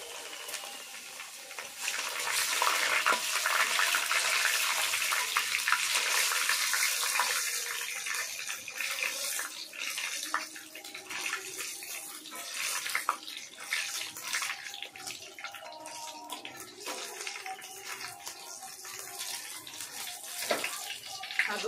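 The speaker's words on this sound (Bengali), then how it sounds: "সাগুদানাগুলো ভাজা হয়ে গেছে" Sago pearls fry in hot white oil in a wok on a gas stove, a loud, dense hissing roar for the first several seconds that eases into a softer, uneven bubbling crackle.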